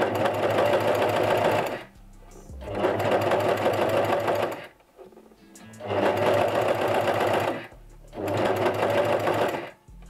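A sewing machine runs a chain stitch using a single needle, sewing in four loud bursts of about two seconds each with short pauses between, close up and with no talk.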